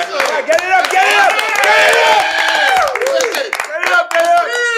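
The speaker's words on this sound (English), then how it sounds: "give a round of applause" Audience applause for a singer on a podcast, with loud cheering and excited shouting voices over scattered clapping, close and energetic throughout.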